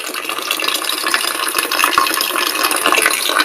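Water drains through a small hole from a can, pouring and splashing steadily into a container below, a continuous hissing gush with small bubbling spatters, close by and without any talking.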